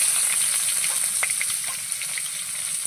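Onions frying in oil in a kadai with bay leaves, a steady close, bright sizzle with scattered spitting pops, heard alone without talk.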